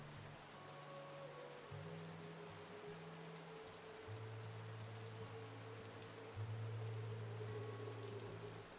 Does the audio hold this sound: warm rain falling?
yes